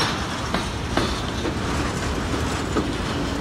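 A BNSF freight train rolls past close by, with loud steady rumbling and a few sharp wheel clacks over rail joints.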